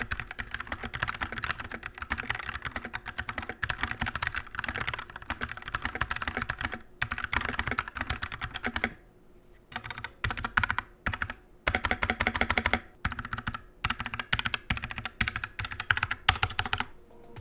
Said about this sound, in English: It's got a really nice build quality, PBT double shot keycaps, and a smooth and responsive typing experience.